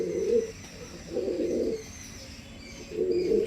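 Pigeons cooing up close in three low, throaty bursts spaced about a second apart, each a soft rolling coo with quiet pauses between and no voices over them.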